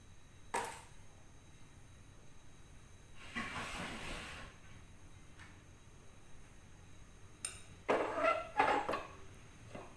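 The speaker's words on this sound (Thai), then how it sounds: "น้ำเดือดแล้วจ้ะพี่น้อง" Water boiling in a pot, a steady low hiss broken by several louder bursts of bubbling and steam, close by with no talking.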